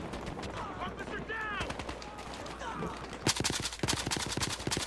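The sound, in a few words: SCAR-H battle rifle gunfire in video game Battlefield Hardline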